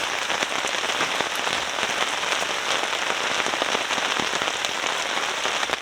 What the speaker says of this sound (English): The rain's barely left us alone for like 10 minutes this camping trip